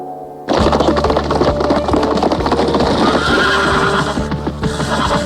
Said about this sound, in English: This is the orneriest horse in Polecat Flats.